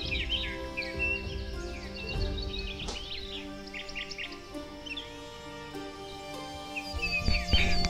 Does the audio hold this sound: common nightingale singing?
yes